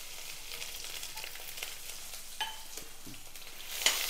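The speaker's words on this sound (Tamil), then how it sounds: "லேசாக ஒரு நிமிஷம் மட்டும் வதக்கி விட்டுறலாம்." Ground pepper, cumin, ginger and green chilli paste sauté over medium heat, a soft, faint continuous sizzle with a few light scrapes and a brief clink near the end, no voices.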